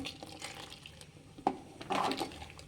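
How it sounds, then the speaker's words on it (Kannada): Water splashes into a mixer jar in a few short, faint pours, with a louder gush near the end and no speech over it. "ಫ್ರೆಂಡ್ಸ್ ಇದೇ ಮಿಕ್ಸಿ ಜಾರ್ಗೆ"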